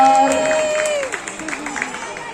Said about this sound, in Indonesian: Mana tepuk tangannya buat tim katalisator?